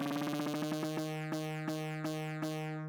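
Tech house synth lead driven by an arpeggiator, with fast repeating plucked notes that slow into spaced rhythmic stabs over a sustained low tone, played alone and clearly.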